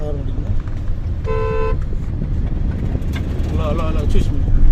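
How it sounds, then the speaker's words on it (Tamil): A car horn sounds once in a steady tone during a driving lesson, close and loud over the rumble of the car's engine, with an instructor talking before and after. "ஹார்ன் அடிக்கணும்."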